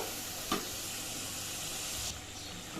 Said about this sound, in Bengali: নাড়াচাড়া দিয়ে খুব সুন্দর মতো মশলাটা কষিয়ে নিব